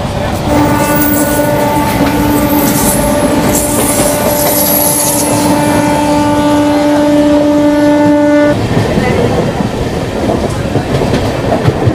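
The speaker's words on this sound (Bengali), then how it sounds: "জাস্ট মেছেদা স্টেশন ছেড়েছে" Passenger train pulling out of Mecheda station on the Kolkata to Digha route, with a steady loud rumble of wheels on rails, long sustained squealing tones for most of the stretch, then plain running noise.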